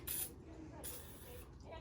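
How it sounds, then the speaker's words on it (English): Lube sprays from an aerosol can in two short hissing bursts during work on a dirt bike axle, close by and fairly quiet, with low background noise between them. "I think I sprayed lube on it"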